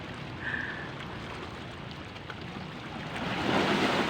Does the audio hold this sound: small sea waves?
yes